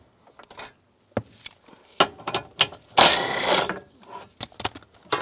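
A ratchet with a 10mm socket removes bolts from a panel in a 2002-2009 Chevrolet Trailblazer, with close, sharp clicking bursts and a longer rapid ratcheting run in the middle.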